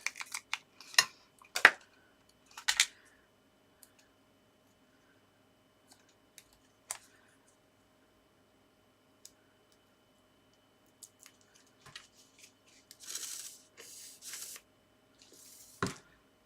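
Scissors snip small pieces of card for a papercraft penguin's little hat, giving soft, quiet clicks and crisp cuts in scattered clusters with long pauses between them.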